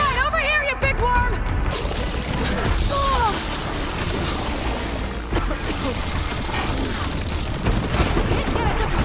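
Weapon fire and machine combat in Horizon Forbidden West, with dense, continuous bursts of shots and crashes blended into a loud, busy game soundscape, and voices are heard over it.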